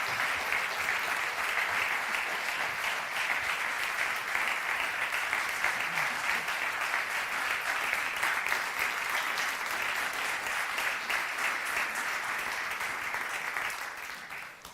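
A large audience at a live public event gives long, steady applause that stays dense and even for over ten seconds before tapering off at the end, with faint voices underneath.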